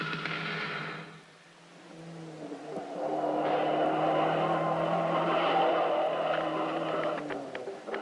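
Rally cars racing in the Paris-Dakar rally roar past on the African tracks, engines surging loud and close with a brief dip before building into a sustained, rising roar.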